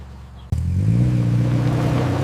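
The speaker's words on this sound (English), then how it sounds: "Not the roar of an animal, but the roar of an approaching rescue engine." A rescue vehicle's engine starts abruptly after a brief quiet moment, then holds a loud, steady, close rumbling roar.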